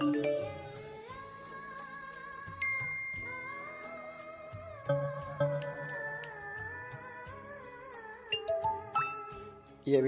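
A ringtone tune previewed in the ZEDGE phone app, a melodic electronic jingle of chiming notes and tinkling accents that plays alone at moderate volume for the whole stretch.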